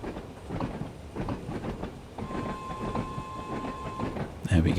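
A train rolls along in the video game Train Sim World 3, a rhythmic clickety-clack of wheels on rail joints with a steady tonal hum partway through, while someone talks over it.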